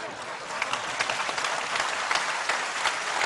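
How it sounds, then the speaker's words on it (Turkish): A studio audience at a Turkish television debate program applauds in a steady burst of clapping that continues across the whole stretch without pause. "Hasret Bey, çok güzel bir soru, çok alkış aldı"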